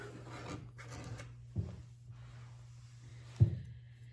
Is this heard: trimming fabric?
yes